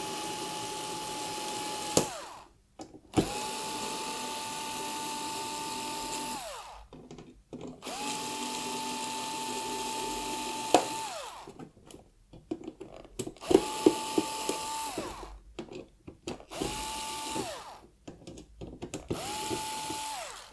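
A small electric screwdriver unscrews CPU cooler screws in a computer. It gives repeated short whirring runs with steady pitch, separated by brief silences, close and fairly quiet.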